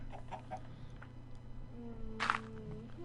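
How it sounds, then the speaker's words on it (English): A chicken in the Minecraft video game clucks in a brief burst partway through, over a steady low game hum and faint background tones. "hear a chicken."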